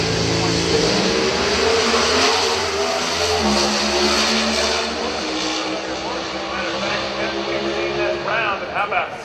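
Two NHRA Pro Stock drag cars with Hemi engines roar down the track at Sonoma during Friday night qualifying, a loud sustained engine howl shifting in pitch, with an announcer talking over it.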